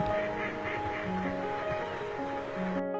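Pintail and mallard ducks dabble in a wetland, giving soft quacks and murmuring calls over a gentle wash of water, with occasional splashy movement close by.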